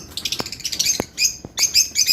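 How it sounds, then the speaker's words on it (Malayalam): Small garden birds chirp and tweet around a home bird feeder, with a quick run of bright calls followed by short bursts of higher twittering, close and fairly clear, plus a few soft thumps of movement. "ആ കിളികളുടെ സൗണ്ടും കൂടി വരുമ്പോൾ നമുക്ക് നല്ലൊരു സന്തോഷമല്ലേ."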